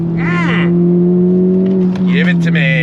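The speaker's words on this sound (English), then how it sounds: "All the way up the red line, nice pop out the back." A modified Honda Civic Type R FK8 hot hatch revs hard up toward the redline, its engine note climbing in loud, close sweeps, settling into a steady drone and then rising again, with a brief pop-like break in the middle.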